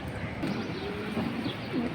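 A female pigeon being held in the hand gives a few low, faint coos, each a soft rolling call over a steady background hiss.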